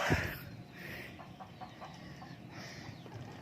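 Chickens cluck softly at a distance in short, scattered bursts over a steady outdoor background hiss.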